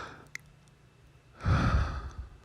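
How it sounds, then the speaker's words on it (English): Breathing from a short recorded voice message: a faint intake and soft exhale, then a louder, breathy gust of air near the mic lasting about a second, with no words spoken. "that was a 3-second voice tweet of him just breathing"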